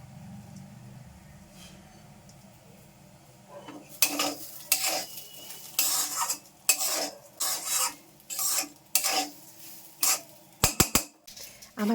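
Rice with cardamom seeds being stirred and fried in a pan, with a quiet background giving way to repeated scraping and clattering bursts of a utensil against the pan, close and irregular, with faint sizzling.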